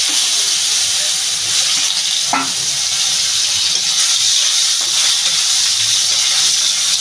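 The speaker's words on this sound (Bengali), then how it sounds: "আলুটা বন্ধুরা ভালো করে ভেজে নেব" Potatoes fry in hot oil with cumin for a tilapia curry, producing a steady bright hiss and sizzle close up, with a brief clatter partway through.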